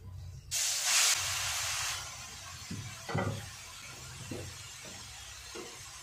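Pieces of pointed gourd and potato drop into hot oil with a sudden loud hiss that settles into a steady sizzle, punctuated by a few soft knocks of utensils against the pan.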